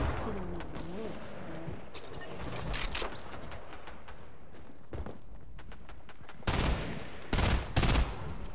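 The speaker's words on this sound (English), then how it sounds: "someone's shooting bullets at me" Rapid bursts of gunfire in the Fortnite video game crackle through a busy game mix, with a few louder, sharper volleys clustered near the end and someone talking over parts of it.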